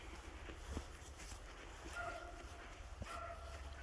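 A dog near a property's dog area gives soft, faint whimpers and a couple of short yips against quiet outdoor background, with small bursts spaced a second or so apart.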